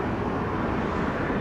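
An American Airlines jet lands on runway 25 at Montego Bay, Jamaica, heard as a loud, steady broadband roar of engine and wind rush throughout the short stretch, with no voices.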